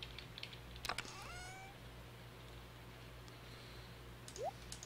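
A cat meows once in the Stardew Valley farming game, a short rising cry over a steady low game hum, with a few faint clicks of keyboard typing nearby.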